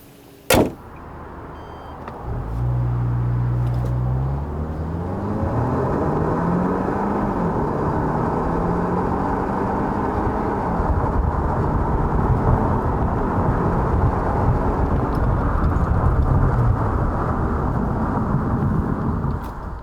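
A 2020 Kia Cadenza 2.5-liter sedan with an 8-speed automatic accelerating hard from a stop, heard from inside: a door thud, then a rising engine drone climbing through gear shifts into a sustained loud road and engine roar.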